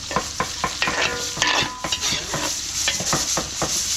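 Minced garlic and onion stirred while frying in butter for a catered beef broccoli dish, a steady close sizzle broken by repeated scraping strokes of a spatula against the pan.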